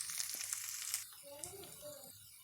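Chopped banana flower stir-fry ingredients sizzle in a pan with salt and curry leaves, a faint, bright crackling hiss that fades as a voice talks over it.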